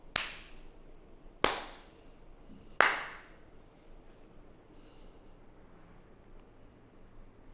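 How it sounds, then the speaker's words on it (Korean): Three single, sharp hand claps ring out about a second and a half apart in a quiet room, each close and crisp with a short decay, made to trigger clap detection. "박수를 치면은"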